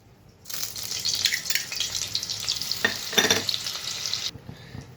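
Butter and refined oil sizzle loudly in a hot wok for several seconds, a bright crackling hiss with a few louder spits and stirring bursts, ending abruptly.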